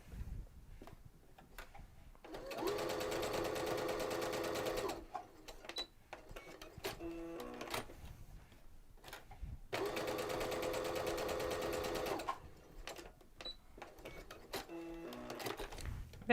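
A sewing machine fitted with a quarter inch foot and quilting guide bar stitches in two bursts of rapid, even whirring, with fabric shuffling and small clicks between them.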